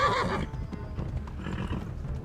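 A distressed horse in the medieval video game Kingdom Come: Deliverance lets out a loud, close whinny, followed by a quieter stretch of hoof clatter and ambient noise with no talk.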